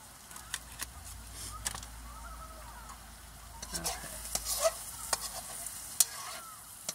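Tomatoes sizzle quietly in a pan while a utensil stirs and scrapes now and then, sharp clicks and clatters rising over the low, soft frying hiss.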